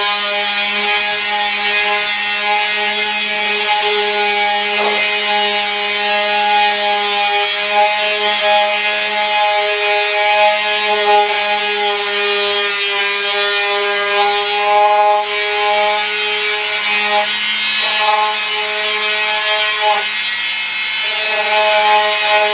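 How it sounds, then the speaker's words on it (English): Wooden bookcase side rails being sanded with a power tool: a steady, loud motor whine with a rubbing hiss runs without a break for the whole stretch, with no voices. "now I've finished sanding these side rails"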